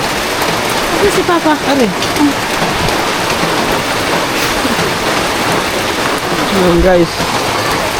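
Heavy rain pours down on a slippery road, a loud, dense, continuous hiss with voices talking over it now and then.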